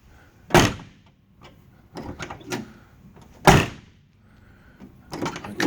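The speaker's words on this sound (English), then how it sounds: "Passenger door closes a little bit harder." Passenger door of a 1972 Chevy C-10 4x4 pickup shutting, with two sharp, loud slams about three seconds apart plus smaller latch clunks and rattles between them, close to the listener.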